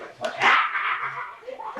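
Dog yelping and whimpering in a 1993 Brazilian horror film, a few sharp yips followed by a drawn-out whine, heard up close amid other faint soundtrack noise.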